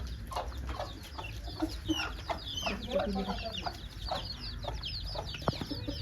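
A broody hen sitting on eggs to hatch chicks clucks in soft, repeated low calls close by, with other chickens in the background and a person talking at times.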